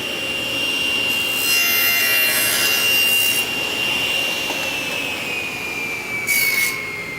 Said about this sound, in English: I've got my miter gauge set for 45 degrees, and I want to make 1 cut right through my auxiliary fence